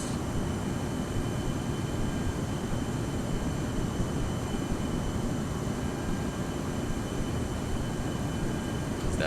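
A steady broadband roar of MD-83 airliner engines and airflow fills the cockpit in flight during an approach on a cool, moist day. It sounds loud, constant and unbroken, with no speech.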